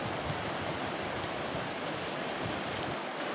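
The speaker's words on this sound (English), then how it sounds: "that's the sound of the river in the background there" River flowing steadily through a forest, a constant broadband rush of moving water that stays even and fairly loud throughout, with no voices.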